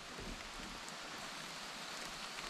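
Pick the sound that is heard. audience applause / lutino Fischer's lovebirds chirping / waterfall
waterfall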